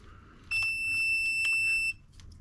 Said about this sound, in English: if your meter has, like, a beep noise. When you touch the two together